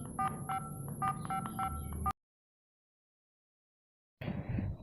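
Rapid sequence of electronic DTMF keypad beeps as a phone number is dialed in a cartoon, crisp and fairly loud over a low background hum, cut off by a sudden silence before muffled room sound returns.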